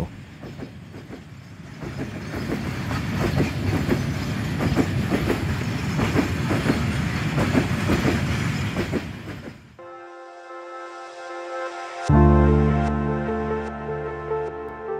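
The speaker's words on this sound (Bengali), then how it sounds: "সেই রেল লাইনে একটা ট্রেন যাচ্ছে" A train rumbles past close by with a steady rhythmic clatter of wheels, then the noise cuts off and sustained musical tones take over.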